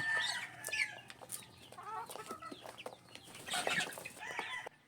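Male chicks on a farm peep and cluck in short, high, overlapping calls, fairly faint and unaccompanied by any talk.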